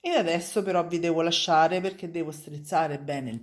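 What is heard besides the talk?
None of the usual background noises is heard.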